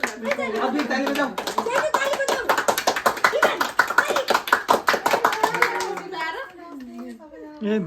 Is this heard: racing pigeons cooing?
no